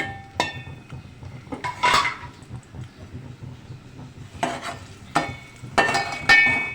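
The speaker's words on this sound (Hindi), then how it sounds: "सरसों का ऑयल है, इसके अंदर ये प्याज डाल के अब मैं ये फ्राई कर लेती हूँ।" Onions frying in mustard oil in a pan for beef biryani, with a steady low sizzle under several sharp clanks and scrapes of a utensil stirring against the metal pan.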